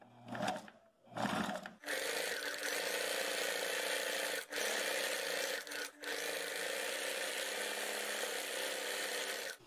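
A sewing machine runs fast, joining fabric strips right sides together, with a steady close mechanical whir broken by a few brief pauses after a couple of short starts.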